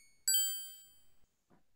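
A single bright chiming ding from a slot machine in the Sierra adventure game Leisure Suit Larry 5, ringing clearly then decaying over about a second, followed by a faint short blip.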